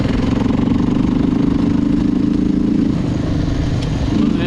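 A Suzuki LTZ400 ATV engine runs steadily at a low, even throttle, loud and close up, with a continuous buzzing drone and no speech.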